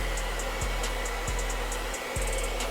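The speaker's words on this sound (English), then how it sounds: "Get it hot with the hair dryer." A hair dryer heating a grip sleeve on a Canik TP9 SFX pistol runs as a continuous close whooshing hum, with a few faint bumps and handling sounds and one brief dip midway.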